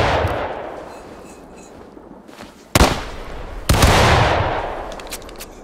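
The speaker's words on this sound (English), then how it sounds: "Wizka, fire." Rifle volley fire in the Civil War battle game War of Rights: a roaring wash of musket shots trailing off, then two sharp, loud cracking volleys, each followed by a long rolling echo.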